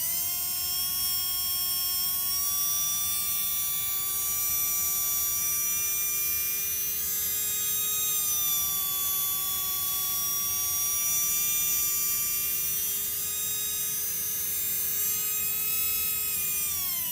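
A Tamiya Dynatech 01R RC motor with its timing turned up full spins at top RPM, giving a steady, loud, high-pitched electric whine that barely wavers and runs unbroken for the whole stretch.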